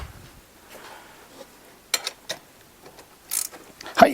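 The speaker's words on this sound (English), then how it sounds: "I'll throw a ratchet on it just to verify." A ratchet tightening a bolt on a Toyota FJ power steering pump, a few faint close clicks and short mechanical ratcheting bursts separated by brief pauses in a quiet garage.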